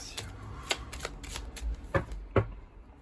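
Tarot cards are cut and shuffled close by, several quick crisp riffles and slaps in an uneven rhythm, quiet and alone with no talking.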